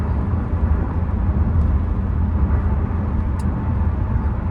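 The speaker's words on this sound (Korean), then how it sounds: "제가 엔진 진동하고 엔진 소음 쪽 이야기를 좀 하도록 하겠습니다" A steady low engine and road rumble drones inside a Chevrolet Trax Crossover cruising at highway speed, constant and even with no voices.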